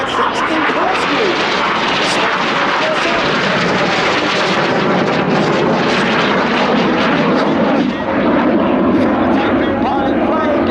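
The Red Arrows jet aircraft roar through a flying display at the Duxford Battle of Britain Airshow, a loud, continuous, broadband rumble that fills the whole stretch. A commentator's voice is partly buried beneath the jets.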